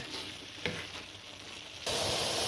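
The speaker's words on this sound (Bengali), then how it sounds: "মাঝে মধ্যে কিন্তু এভাবে একটু নাড়াচাড়া দিতে হবে মিশিয়ে নিতে হবে ভালো করে গ্রেভির সাথে" Prawn malaikari sizzles and bubbles in gravy in a pan while being stirred, a steady close frying hiss with a soft scrape near the middle, growing louder and fuller toward the end.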